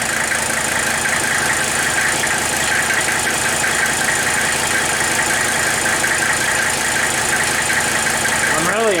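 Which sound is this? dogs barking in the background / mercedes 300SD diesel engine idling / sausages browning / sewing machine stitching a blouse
mercedes 300SD diesel engine idling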